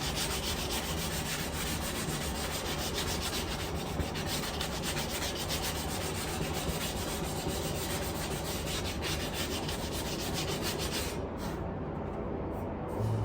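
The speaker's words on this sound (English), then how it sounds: "you want to go in with something like a 120 grit, which is a little bit like less abrasive, so it buffers it out and makes it smooth" Hand sanding of a metal patio chair with 120 grit sandpaper makes a continuous, close scratchy rubbing in quick back-and-forth strokes, steady throughout and ending abruptly near the close.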